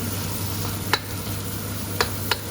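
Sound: stir-frying Korat-style chili paste, adding shallots

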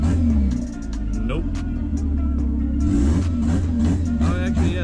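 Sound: Honda Integra turbo engine revving

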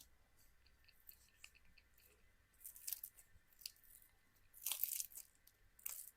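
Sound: biting crunchy cherry puff pastry

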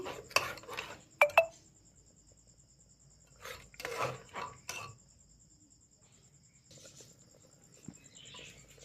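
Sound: stirring mutton stew with egg in a pot

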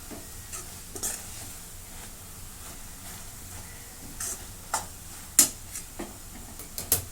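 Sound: sautéing and mashing chakvat greens with a spoon in a pan

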